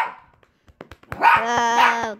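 A dog gives a short run of loud, harmonic barks and yips at close range after a few quiet sniffs and small noises.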